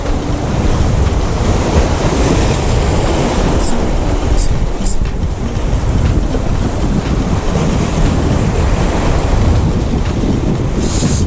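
Strong crosswind buffets the microphone at a seaside fishing spot on the northern east coast, a continuous loud roar blended with surf wash, constant throughout with no talking.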